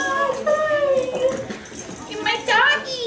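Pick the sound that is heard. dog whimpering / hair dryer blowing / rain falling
dog whimpering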